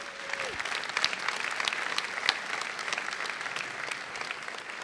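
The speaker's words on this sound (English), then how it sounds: "I'd love for everyone to give them a round of applause for joining." Conference audience at RustConf 2025 applauding, a dense, sustained clapping from a large crowd that holds steady for several seconds after a brief tone at the start.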